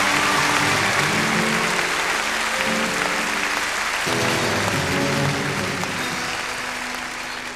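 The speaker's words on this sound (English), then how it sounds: "Would you give him some applause?" Concert audience applauding a band's drummer at a 1991 Hull show, with sustained, dense clapping throughout that fades slightly toward the end while the band's instruments hum faintly underneath.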